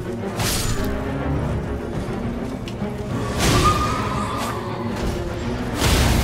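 A horse whinnies in the video game Elden Ring during a fight, over a busy game soundscape with clashing impacts and thuds around it, loud and close.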